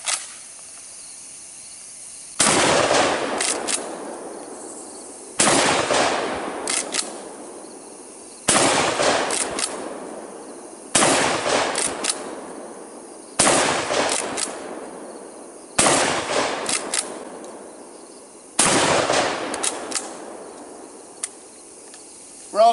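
Shots from an FRN 12 gauge pump-action shotgun at an outdoor range, six loud, sharp blasts spaced a few seconds apart, each followed by a long fading echo, with faint insect chirping in the quiet gaps.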